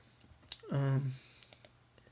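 A few sharp computer mouse clicks sit amid quiet room tone while a voice speaks briefly in the middle, with another faint click or keystroke near the end.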